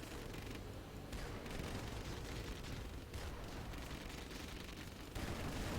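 Dense, continuous rapid quad cannon fire in a Rise of the Reds real-time strategy game, with heavy rumbling bursts, fairly faint and steady throughout with no speech.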